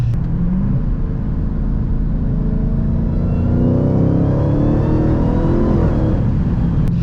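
A Dodge Hellcat's engine revs up from inside the car, a loud deep whirring roar rising steadily in pitch as it accelerates through the gears, with no talking.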